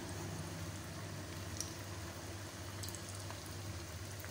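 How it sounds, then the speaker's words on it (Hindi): Chicken pieces coated in flour frying in hot oil over a low flame give a steady, faint, even sizzle that goes on without a break, with no talk over it. "अब इसको मैं ऑयल में डिप करती हूँ, फ्राई करेंगे इसको"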